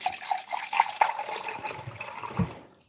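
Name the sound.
water being poured into a cup for a kale smoothie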